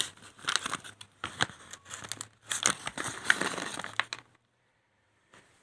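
A paper envelope that once held seeds is handled and crinkled up close, giving several bursts of crisp rustling and crumpling over a few seconds before it falls quiet.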